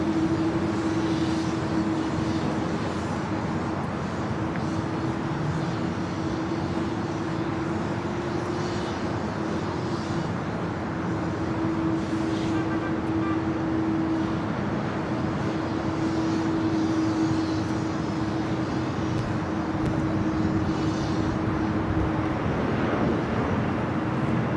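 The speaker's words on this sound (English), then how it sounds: "This sounds like we just had a Korean Air Cargo 777 freighter touching down at 2511." A Korean Air Cargo Boeing 777 freighter touches down at Los Angeles International Airport, its engines a steady, loud roar with a sustained whine holding throughout, broad and continuous with no voices.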